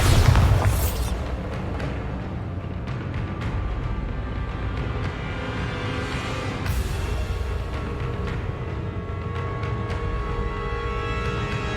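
A Bombarda spell blast in Hogwarts Legacy lands as a heavy boom at the start, then a rumbling, crackling explosion tail runs on loud, with a second burst partway through.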